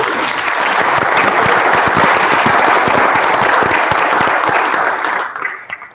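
Audience at a school board of education meeting applauding for two young singers, loud dense clapping sustained for several seconds before tapering off at the end.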